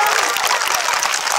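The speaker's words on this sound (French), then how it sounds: "Applaudissez très fort Abdoulaye." Steady, dense applause from a crowd at a school dictation contest fills the whole moment, loud and close, with no pauses.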